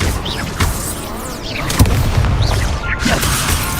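In the Hogwarts Legacy video game, a rapid string of spells, with fire casts among them, lands as booming impacts and whooshing bursts over a dense, loud battle rumble.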